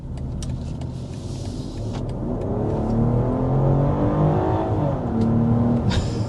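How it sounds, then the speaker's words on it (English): A 2025 BMW X5 40i with its base powertrain revs hard on a quick jab of the accelerator, rising loud and close and then settling into a sustained engine roar. "there's a quick jab of the accelerator in the X5 40i"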